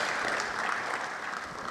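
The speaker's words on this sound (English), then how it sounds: "Let's applaud the Honorable Commissioner for" Brief burst of audience applause at a presentation of an electricity policy, honoring a commissioner, heard as a continuous even patter of many hands at moderate volume, with no talking.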